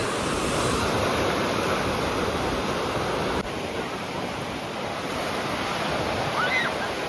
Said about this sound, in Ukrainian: сьогодні штормить море